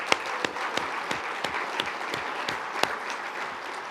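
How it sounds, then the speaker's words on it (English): Audience applause at a university medical school address, a steady dense clapping from a crowd that fills the whole stretch with sharp individual claps popping out, fairly loud and without talk. "a round of applause for that team."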